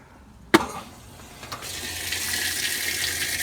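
A Kenmore washing machine begins filling with cold water for a large load: a sharp knock, then a steady rushing hiss of water pouring into the tub that grows and holds.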